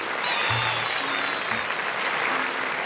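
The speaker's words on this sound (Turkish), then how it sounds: "Onlara buradan kocaman bir alkış." Dense, steady applause from an audience at a science-experiment talk about Turkish cinema, a continuous wash of many hands clapping close by with a brief low hum underneath.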